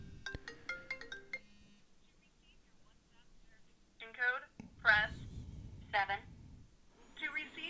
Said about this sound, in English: This should be a phone call.